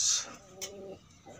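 Pigeons of a blue bar line coo softly in a short burst close by, a brief low call following a sharp chirp-like note, with faint movement around them.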